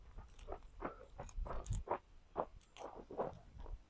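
Dry leaf crunched by hand outdoors, a run of crisp close crackles and rustles in irregular bursts, fairly quiet.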